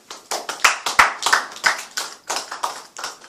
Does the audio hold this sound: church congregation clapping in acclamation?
yes